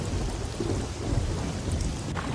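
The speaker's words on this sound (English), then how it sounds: "I don't think we've ever been out in such a terrible storm." Thunderstorm sound effect with heavy rain and deep rolling thunder, a dense continuous downpour with low rumbling throughout and no voices.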